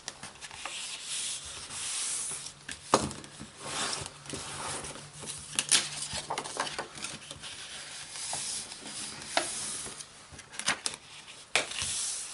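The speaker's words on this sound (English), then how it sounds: "let's fold and burnish our score line" Folded paper creased and burnished along a score line for a treat bag, a close, dry rubbing and sliding with small taps and crinkles, steady over about twelve seconds without speech.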